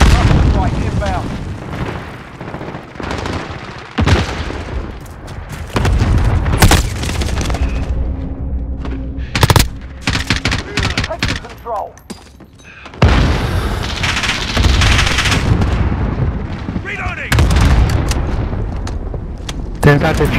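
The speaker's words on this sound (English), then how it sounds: "Allied rocket strike inbound." Rocket strikes in the shooter game Call of Duty: Modern Warfare land as a string of loud, heavy booms and rumbling blasts during a team deathmatch, mixed with gunfire and game voice callouts.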